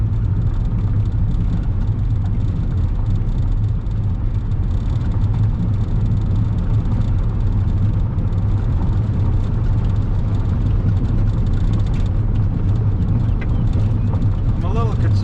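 A car rolls steadily along a gravel road in decent shape, a constant low engine and tyre rumble throughout with faint crunching, while a person talks over it.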